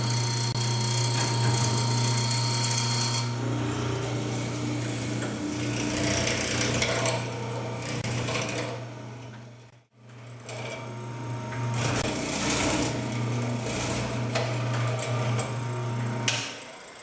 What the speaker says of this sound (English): So we'll go ahead and cut one of those 1/2 inch mortises out now and see how that comes out.